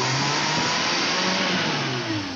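A Suzuki Carry engine, just fitted with a repaired carburetor, revs loudly at close range. Its mid-pitched drone rises and holds steady through a sustained throttle blip, with no voices.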